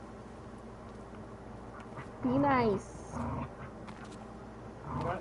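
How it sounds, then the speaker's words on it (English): Ivy the dog gives a single sharp, whiny bark or yelp, close by and fairly loud, followed by softer sounds as a person speaks nearby. "Ivy, what are you barking at?"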